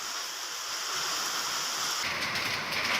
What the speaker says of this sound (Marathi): आणि अवकाळी पाऊस कोसळतोय